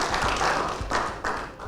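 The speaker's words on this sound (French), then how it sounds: "On va l'applaudir, s'il vous plaît," A studio audience on the Ivorian TV show Émission pépite claps for a guest named Gloria, giving a handful of separate, fairly close claps and taps spread unevenly across a short stretch, with no talk.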